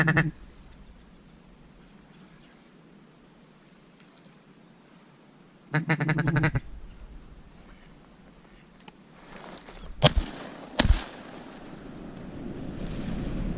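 Shotgun blasts ring out while hunting mallards over decoys in a tight swamp hole: two sharp, loud reports in quick succession near the end, among duck quacks and wind noise.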